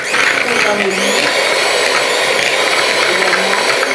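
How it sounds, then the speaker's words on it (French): An electric hand mixer whips shea butter with olive oil, giving a loud, continuous motor whir that holds steady throughout, close to the ear. "Moi, je prends mon batteur électrique, c'est plus pratique."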